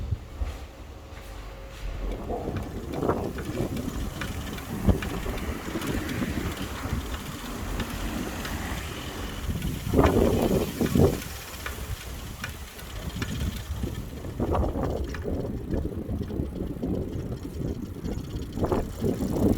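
Rushing wind buffets the microphone during a coastal bike ride in Lanzarote, a steady broadband roar with louder gusts partway through.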